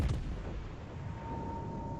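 Battleship main turrets fire a salvo in the World of Warships naval game, a single heavy boom at the start followed by a long rumbling decay and a faint steady tone.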